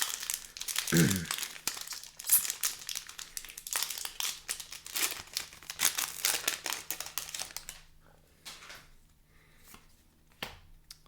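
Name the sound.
tearing open a Magic: The Gathering booster pack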